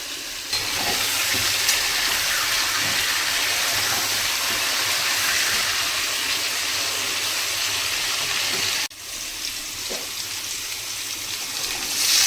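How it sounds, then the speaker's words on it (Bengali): Potatoes sizzle in a pan with salt and turmeric, a steady moderate frying hiss with faint stirring touches that dips briefly and then carries on quieter; no voices are heard. "এবার আলুগুলোকে ভালো করে লাল করে ভেজে নেব।"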